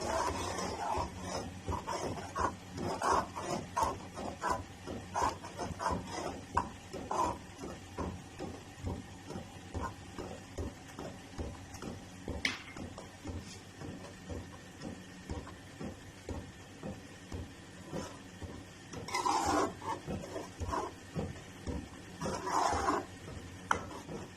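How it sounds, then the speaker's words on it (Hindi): A spoon stirring a beaten egg into soup in a pot on the stove: steady, fairly faint rhythmic scraping and clinking that repeats throughout, with a soft simmering hiss underneath and no talking. "वो डालेंगे और चम्मच चलाते रहेंगे"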